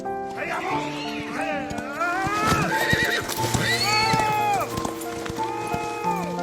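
A horse neighs and whinnies repeatedly over steady clip-clopping hooves in a film scene, loud and close, with a busy soundtrack beneath.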